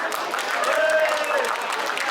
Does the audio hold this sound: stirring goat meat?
no